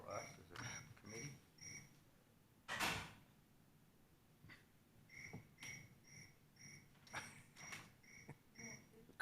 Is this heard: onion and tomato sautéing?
no